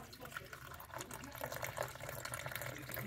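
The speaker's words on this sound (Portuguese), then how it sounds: "Vem aqui em cima dele, para mostrar eu colocando a água." Water pours into a container resting on a plastic bubble bag, giving a steady splashing trickle that runs for about three seconds at moderate, close level.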